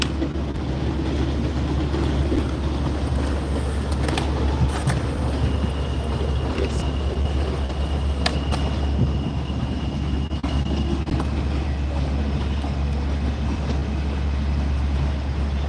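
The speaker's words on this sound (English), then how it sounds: "See the train going by?" An elevated train rolls past in Brooklyn, New York: a sustained heavy rumble of rail cars with intermittent metallic clanks and a faint high squeal, steady and fairly loud throughout, with no talking.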